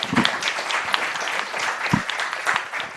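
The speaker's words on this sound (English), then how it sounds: "Please give a big round of applause for our wonderful panel." An audience applauds a panel at the close of a news conference session, dense clapping that holds steady for several seconds at moderate loudness, with faint voices mixed in.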